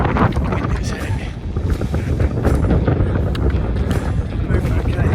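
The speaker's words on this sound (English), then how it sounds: "Amazing wind is heavy." Heavy wind on the south coast near Beachy Head buffets the microphone with loud, continuous low roaring rumble that swells and eases slightly throughout.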